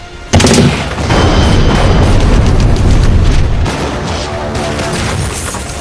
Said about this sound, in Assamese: লগে লগে পাক যুদ্ধ বিমানক লক্ষ্য কৰি ধাৰাসাৰ গুলীবৰ্ষণ